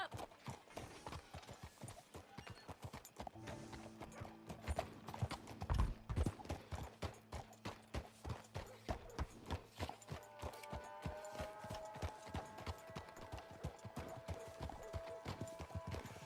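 Horse hooves clip-clop at a steady walking rhythm while riding in the Red Dead Redemption 2 video game, close and continuous, with a brief whinny and low game music or ambience underneath.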